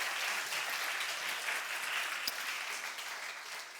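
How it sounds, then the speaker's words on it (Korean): Congregation applauding during a Korean church youth worship service, a dense, steady wash of many hands clapping that holds at an even level for several seconds before easing slightly at the end. "우리 하나님께 영광의 박수 올리겠습니다"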